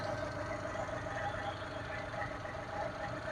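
A Maruti Esteem LXi car engine idles steadily at close range, a continuous even hum with faint knocking texture and no talk over it.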